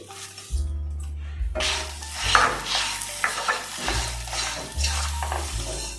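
Masala frying with curry leaves for a chicken curry on a medium flame, a close, loud sizzle with repeated metal spoon scrapes and clanks against the pan, no voices.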